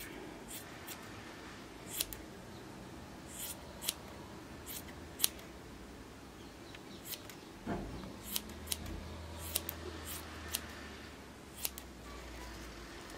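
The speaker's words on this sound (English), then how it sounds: "It feels strange to be trimming off so much yarn." Scissors trimming crochet yarn, a series of sharp, close snips spaced irregularly over a quiet background.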